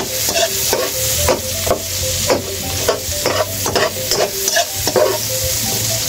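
Garlic, onion and ginger sautéing in a hot pan, a loud steady sizzle broken by repeated sharp scrapes and taps of a utensil stirring, close up with no talking.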